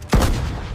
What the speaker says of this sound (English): Then the German anti-air guns and Italian Breda cannons begin to fire wildly at the British soldiers.